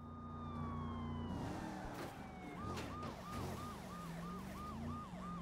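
A police siren in the Saints Row video game wails in repeating rising-and-falling sweeps, with a car engine droning underneath and a second, fading tone at the start.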